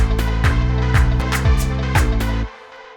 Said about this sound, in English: the next thing that I added was another polysynth